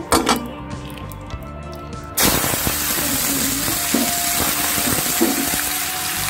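Garam masala and bay leaves dropped into hot oil in a home kitchen: after quieter clinks and a brief pause, a sudden loud, steady sizzle bursts up and continues, with occasional scraping and tapping of utensils.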